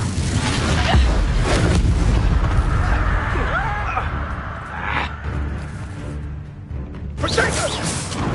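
A Confringo fire spell blasts in Hogwarts Legacy, a booming whooshing burst with rumbling low impacts and swishing spell effects in a busy combat mix.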